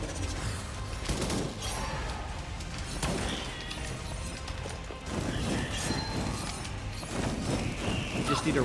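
Rapid, loud weapon fire in the first-person game Ziggurat 2, a quick run of crashing shots in uneven bursts with a voice talking over part of it.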